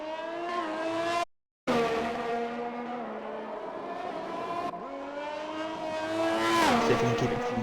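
A virtual racing car on soft tyres laps the Canada circuit in a racing video game, its engine revving and shifting in a continuous high whine. A brief dropout interrupts it before it climbs into a louder screaming rev near the end.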